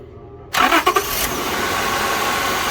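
A car engine cranks and catches, giving a few sharp bursts as it fires, then settles into a steady idle that runs to the end.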